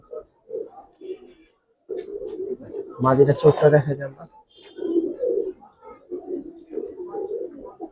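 Small old-breed racing pigeons in a loft coo in soft, repeated low throaty phrases near the microphone, with one louder, fuller burst midway while someone talks over them.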